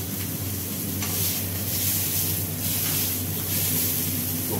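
A thick beef sirloin steak (faux-filet) sears in a very hot, smoking pan, giving off a loud, constant sizzle with faint crackling spatters and a light, steady hiss.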